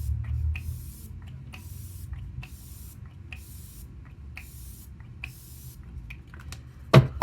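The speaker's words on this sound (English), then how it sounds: "I'm gonna spray my face now." Short hissing bursts of a hyaluronic acid hydrating setting mist sprayed onto a face, about six evenly spaced puffs with soft clicks of the pump between them, close and fairly quiet.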